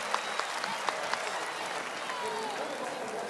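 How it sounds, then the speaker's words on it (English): A large crowd at the 1972 Wattstax concert applauds in a dense, continuous roar of clapping with occasional louder claps, carrying evenly from start to finish with voices faint within it. "Let's give ourselves a great round of applause."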